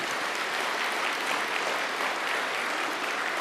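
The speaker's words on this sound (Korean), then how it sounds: "참부모님께 감사의 박수를 한번 올리겠습니다" A congregation at a church worship service gives sustained, dense applause that holds at an even, loud level throughout.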